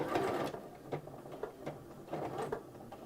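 A sewing machine back stitches on a placemat, giving a short close burst of rapid mechanical stitching followed by a few softer, uneven clicks and pauses as the fabric is worked back and forth.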